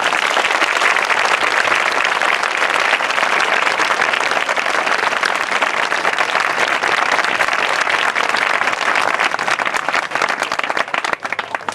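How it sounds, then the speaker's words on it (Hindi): Sustained, loud audience applause fills a church Christmas meeting, dense clapping from a large crowd holding steady throughout before thinning slightly at the very end. "अब इन सबों के लिए एक साथ जोरदार ताली बजाएंगे।"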